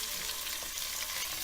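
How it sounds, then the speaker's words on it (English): Onion and garlic fry together in a pan for a beef and pork ragu, giving a steady, even sizzle with a faint stir partway through and no talking. "You're going to cook the onion and the garlic together"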